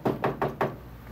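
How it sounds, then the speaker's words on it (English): Four quick knocks rap on a door in a care facility room, close and moderately loud in an even rhythm, followed by the start of a voice. "First, I'm going to knock in."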